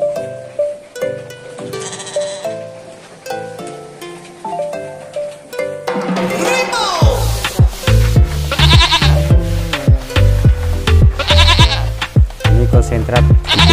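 Goats on a modern goat farm bleat repeatedly, sometimes several at once, loud and close amid background farm noise, with music-like tonal layers and no clear talk.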